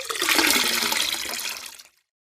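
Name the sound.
water poured into a pot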